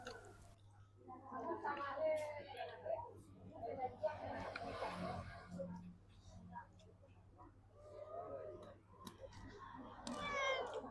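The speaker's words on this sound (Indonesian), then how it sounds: "manis kucing." A cat meows several times, close and fairly faint, with soft voices murmuring in between.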